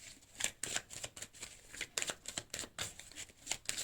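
Tarot cards being shuffled and drawn, a rapid series of crisp riffling and slapping bursts in irregular rhythm, close and fairly quiet, with no talking.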